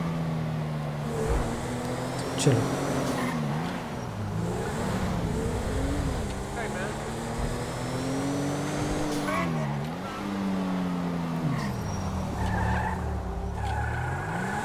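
A Mercedes-Benz Maybach in the video game GTA V, its engine droning and pitching up and down as it drives, with tire squeals and skids breaking in; someone speaks briefly over it.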